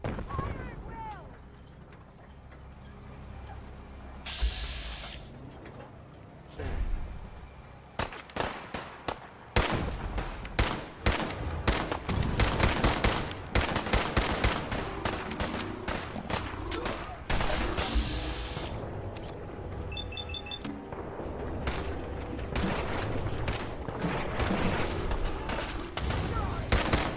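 Bursts of gunfire from the video game Fallout 4: Far Harbor crackle in rapid, overlapping volleys with heavy booms, loud throughout, while voices shout among the shooting.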